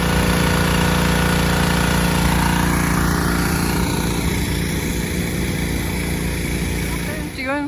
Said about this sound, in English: Steve Pate, Dave McLean, and Carl Bonnell got out their power washers.